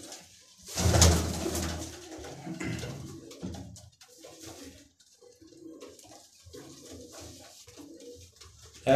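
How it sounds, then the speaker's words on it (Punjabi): Golden pigeons with red eyes cooing in a rooftop loft, repeated soft throaty coos nearby, one louder burst early on, with faint rustling in between. "ਅਸੀਂ ਜ਼ਿਆਦਾ ਸਾਨੂੰ ਲਾਲ ਅੱਖ ਵਾਲੇ ਗੋਲਡਨ ਕਬੂਤਰ ਪਸੰਦ ਨੇ"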